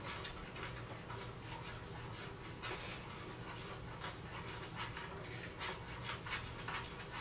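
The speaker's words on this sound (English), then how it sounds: "So I'll just keep stirring it." A spoon scrapes and rubs through thickened rice and beans in a pot, a steady, quiet stirring that continues without pause and with no talk.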